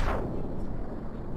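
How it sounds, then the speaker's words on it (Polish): Explosion blasts in the open-world action game Just Cause 3: a loud, booming detonation with a rumbling low-end tail that stays dense and heavy throughout, with no talking. "Tu będzie się działo tylko i wyłącznie wybuchy"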